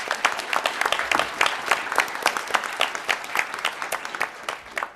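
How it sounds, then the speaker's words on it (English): An audience claps for a contest winner at an awards event, steady crowded applause with sharp individual claps standing out throughout, continuous and fairly close. "Let's give her a round of applause."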